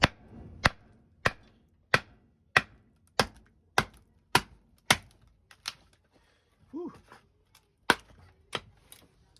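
A cheap $25 D2 steel knife is batoned through wood, giving about a dozen sharp, evenly spaced cracking strikes up close, with a brief pause and a rising squeak before the last few hits.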